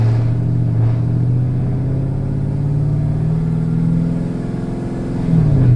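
A supercharged GMC Sierra pickup engine revs on a dyno through the gears, a loud, close, continuous droning roar whose pitch climbs steadily and then drops near the end.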